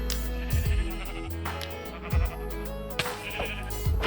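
Sheep bleat in the Minecraft video game, several short nasal bleats spread through the clip over a dense game music and sound background, fairly close with no talk.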